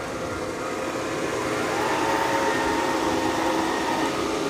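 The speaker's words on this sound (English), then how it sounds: "You can hear the vacuum kick off and then kicks back on automatically." Dreame L40 Ultra robot vacuum running nearby, a steady airy whir with a faint high motor whine that swells slightly partway through.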